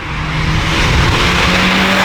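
A car engine and exhaust roar loudly and steadily on a race track, a continuous close drone with faint tyre noise and no talk.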